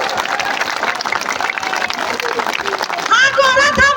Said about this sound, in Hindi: ताली बजाते रहो, गर्मी लो।